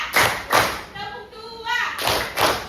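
Children in a classroom clap hands in a counted pattern, sharp grouped claps with a pause between bursts while voices chant and speak in the gap.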